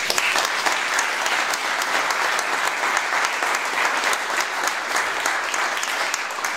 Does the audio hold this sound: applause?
yes